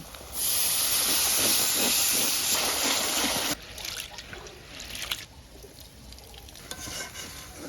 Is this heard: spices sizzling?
yes